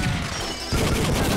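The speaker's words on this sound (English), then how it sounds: "There's a machine gunner over there." Rapid machine gun fire from the shooter video game Time Crisis, played on a PS1 emulator, dense crackling bursts running continuously and loud, swelling stronger in the second half.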